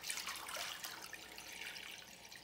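Three cups of water splash into a cooking pot for a Congolese sweet potato leaves soup, a faint, steady pouring rush lasting a couple of seconds.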